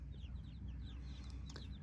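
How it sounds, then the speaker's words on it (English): Small ducks approaching across a big lake during a carp fishing session: faint, quick high peeping calls in short bursts, distant over a constant low outdoor rumble. "here comes the little ducks"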